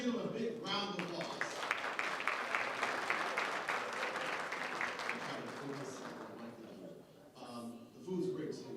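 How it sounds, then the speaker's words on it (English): Steady audience applause at an educational leadership summit, a broad wash of clapping from a crowd that holds for several seconds before tapering, with a voice starting up at the end. "Let's give them a big round of applause."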